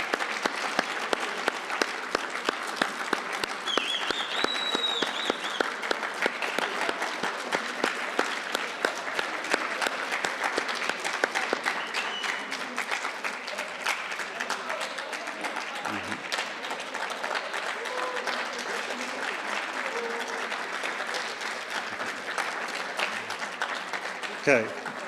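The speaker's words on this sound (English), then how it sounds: "Let's give them all a round of applause." An audience at a mathematics olympiad awards ceremony applauds silver medalists with sustained, even clapping that stays strong, then gradually thins while a faint voice speaks underneath.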